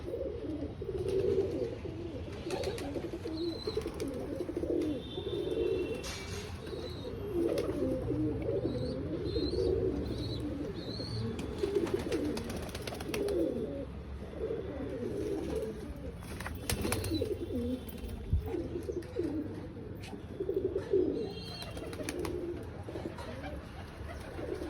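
A group of domestic pigeons at a home coos steadily nearby, layered low burbling calls running on and on, broken now and then by brief wing flaps and taps as birds settle one after another.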